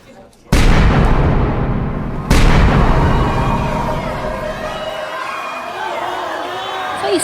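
A loud gunshot effect in a documentary film about school bullying, a sharp blast at the start followed by a second heavy boom that rings out into a long fading tail.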